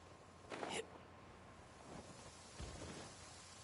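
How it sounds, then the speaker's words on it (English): Faint, steady rainfall hiss in Genshin Impact with a soft distant rumble, no voices present. "Oh, just listen to that rain."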